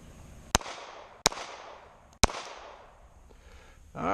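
Three sharp, loud pistol shots from a Glock 43 fired at a target, spaced unevenly about a second apart, each cracking with a brief decaying echo, followed by a rustling noise at the end.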